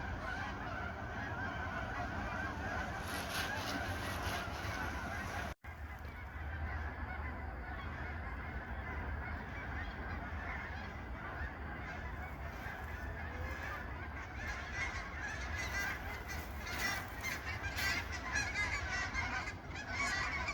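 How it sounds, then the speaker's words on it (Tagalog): Flock of migrating geese honking continuously overhead in Canada, a dense chorus of calls steady throughout with outdoor background noise. "the migratory bird"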